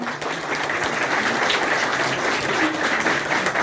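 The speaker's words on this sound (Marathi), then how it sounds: "जरा जोरात टाळ्या शिक्षकांसाठी" Dense applause for teachers at an Independence Day felicitation ceremony in a village gram panchayat, a crowd clapping steadily and loudly throughout without a break.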